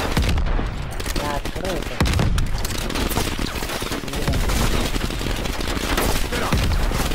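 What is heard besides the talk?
gunfire in Call of Duty Cold War video game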